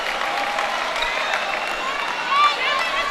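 A basketball crowd in Daulton Gymnasium roars and cheers after a free throw at an NCAA West Regional men's game, a broad sustained wash of voices with a brief swell near the end.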